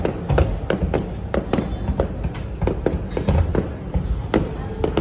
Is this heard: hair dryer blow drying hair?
no